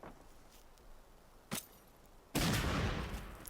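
A gunshot fired in the tactical video game Affected Zone Tactics: one short sharp report midway, then a louder, sustained burst of gunfire noise that carries to the end.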